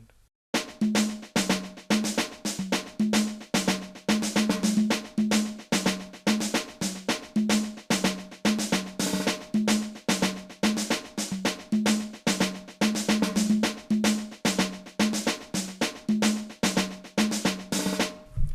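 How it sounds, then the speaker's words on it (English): A loose, low-velocity snare programmed in FL Studio plays a rapid reggaeton-style looping pattern, crisp repeated hits at steady volume with no voices. "I got a loose snare here."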